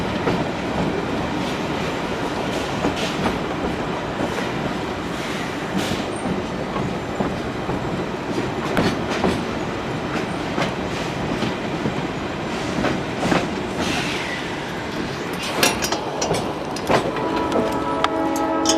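Georgetown Loop Railroad train rolling along the rails, a steady loud rumble with rhythmic clickety-clack of wheels over joints and occasional sharp metallic squeals, continuous and close throughout.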